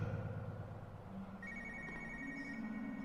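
A telephone rings in the horror video game Spooky's Jumpscare Mansion, with a trilling ring rising over a dense, murky background drone.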